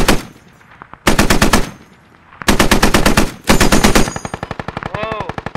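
Automatic weapon fire in the military shooter Squad, several loud sustained bursts with short pauses between them, then quicker scattered shots. It is close and loud, with no talk over it.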